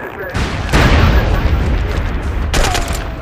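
Gunfire and booming blasts in a German-language multiplayer war video game, with loud broadband bursts near the start and again later over a dense rumbling battle bed.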